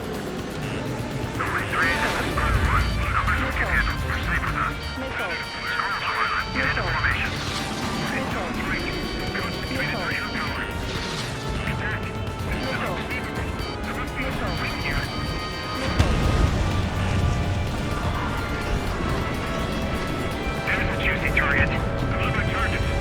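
Enemy aircraft blown up in the flight combat game Ace Combat 7: Skies Unknown, several heavy booming explosions and crashes spread over a roaring jet-engine backdrop, with radio chatter from game characters talking in between.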